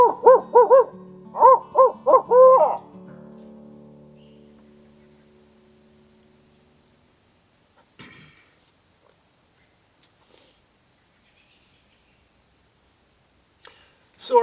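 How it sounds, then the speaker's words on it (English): Barred owls hoot in the north woods on an autumn morning, a loud close series of rhythmic hoots in two quick bursts, followed by long quiet with a few faint distant knocks. "Barred owls are hooting."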